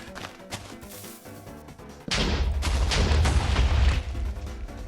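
Booming TNT cannon explosions in Minecraft: quieter rumbling build-up, then a loud, dense burst of heavy blasts and thuds lasting about two seconds before easing off.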